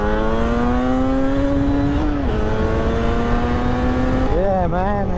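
A classic 1980s Yamaha RD350 YPVS two-stroke motorcycle with newly fitted pipes idles and runs steadily, a buzzy harmonic engine tone holding pitch with slight dips and a brief rev rise near the end, loud and up close amid wind noise.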